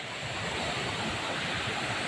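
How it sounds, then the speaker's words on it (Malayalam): Steady, dense rushing of a fast-flowing stream, a continuous broad roar with no breaks and no voices. "നല്ല ഒഴുക്കുണ്ട്"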